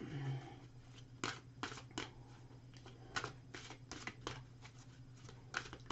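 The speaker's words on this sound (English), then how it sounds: "So let's give them a little shuffle here and see which cards we get." A tarot or oracle card deck being shuffled by hand, short riffling bursts repeating every second or so, close and fairly quiet over a low steady hum.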